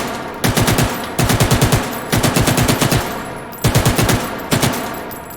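A Finnish AK rifle fires in the VR game H3VR in loud close bursts of rapid automatic shots, five short strings separated by brief pauses.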